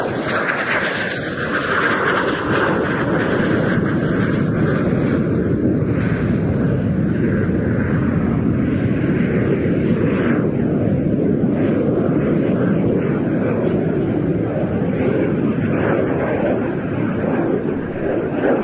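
An Italian G91 jet fighter thunders past at the Royal International Air Tattoo, a continuous loud jet roar that swells and holds for a long stretch of sustained engine noise.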